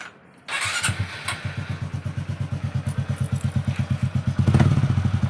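A repaired motorcycle engine starts and then idles steadily, its loud, even chugging pulse repeating close by and quickening slightly toward the end, with no voices over it.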